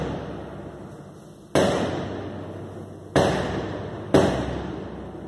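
Sharp explosive blasts boom across a town during an hours-long bank robbery where ATMs were blown up, three loud reports each trailing into a long rumbling echo over a steady background roar.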